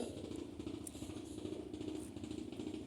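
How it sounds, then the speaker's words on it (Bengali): Low rumbling engine noise of a passing motor vehicle near a resort picnic spot, steady and fairly faint, with a slight rattle throughout. "আবার গাড়ির শব্দ"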